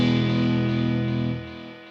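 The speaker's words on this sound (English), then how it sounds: "this is more of an effect kind of sound where you've got a bit of delay and reverb." A crunchy, distorted electric guitar chord runs through stock Ableton delay and reverb plugins, ringing loudly and then fading into a short echoing decay tail.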